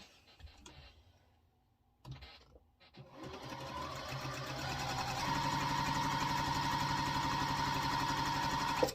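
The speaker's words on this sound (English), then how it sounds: "we're going to sew from the center down to the corner." A sewing machine stitching quilt fabric, starting with short taps and pauses, then running in a fast, steady, close mechanical whir through the rest of the clip.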